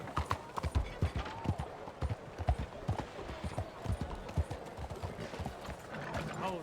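Rhythmic clip-clop of horse hooves on hard ground in the video game Red Dead Redemption 2, a steady trotting gait close by, with faint speech in the background.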